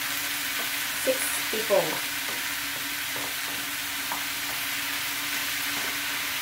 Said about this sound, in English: Stirring it until getting brown